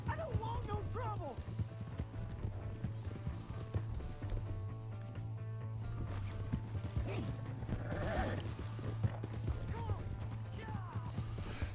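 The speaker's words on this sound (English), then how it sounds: "Oh, it's a horse chase." Rhythmic hoofbeats of horses galloping in Red Dead Redemption 2, mixed with whinnies, steady background music and mechanical noise, with a voice speaking now and then.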